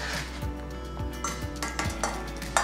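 Chopped onion is scraped from a board into a pot, giving a series of soft knocks and clinks of a utensil against cookware, close and fairly quiet.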